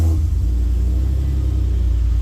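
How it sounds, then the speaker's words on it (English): A 1993–2002 Toyota Supra MKIV engine runs close by with a loud, steady low rumble and even idle throb throughout. "get the car started"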